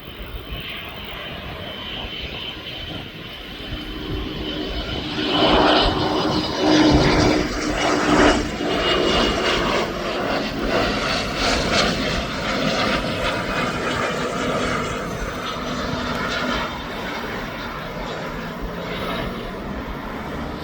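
Airliner landing in a crosswind at East Midlands Airport, its engine roar building loud and broad from a distance, peaking as it passes near, then holding a steady rumbling wash as it rolls on.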